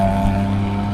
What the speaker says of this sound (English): Literally, all you can hear is just car exhaust noises.